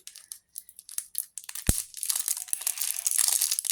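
Packaging on a ribbon spool being torn open by hand: close, crinkly ripping and crackling plastic, with a sharp snap partway through and then a steady stretch of rustling tearing.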